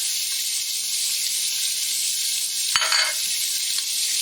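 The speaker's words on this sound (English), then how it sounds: "We're going to add in the meat as is." Meat and carrots frying in a pan give a steady, loud sizzle throughout, with a brief clatter of stirring or utensil contact about three-quarters of the way through.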